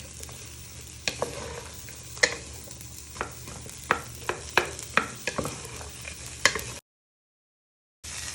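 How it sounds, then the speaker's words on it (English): Onion and garlic fry in a pan for curried parsnip soup, a steady sizzle punctuated by repeated sharp scrapes and clacks of stirring, then abrupt silence before the sizzle returns. "So you're just finishing off frying your onion and garlic."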